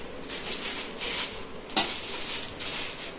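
Dried chillies dry-roasting in a pan for homemade chilli powder give a steady, dry rustling and scraping with one sharper clank of utensil on pan midway.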